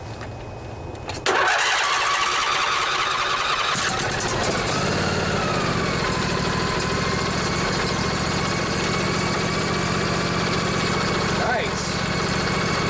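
A Craftsman riding lawnmower with a 24 HP Briggs engine cranks briefly, then catches and roars to life, settling into a loud steady idle close by.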